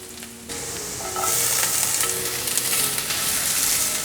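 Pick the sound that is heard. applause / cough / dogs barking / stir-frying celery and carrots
stir-frying celery and carrots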